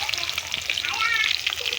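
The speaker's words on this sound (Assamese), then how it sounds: "মই এতিয়া তেল গৰম হৈ গ'ল আৰু ইয়াত পিঁয়াজ আৰু তেজপাতখিনি দি দিলোঁ।" Onions and bay leaves fry in hot oil in a pan with a steady, close crackling sizzle, under faint background voice.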